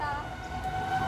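A train passes close by, its loud sustained tonal horn-like drone ringing over a rumbling low roar for a brief moment.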